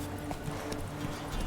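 A horse's hooves clatter at a gallop in The Witcher 3: Wild Hunt, rapid irregular thuds over a loud, steady game ambience, with no talk.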